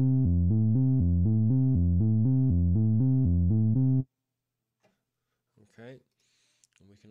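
A Logic 9 synthesizer arpeggiator cycles a quick, steady pattern of repeating notes for about four seconds, then stops, followed by a few brief spoken words.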